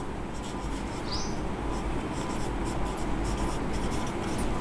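Marker or pen scratching out figures during a class 10 maths lesson, a faint steady rubbing that runs on under a continuous background hiss, with no talking.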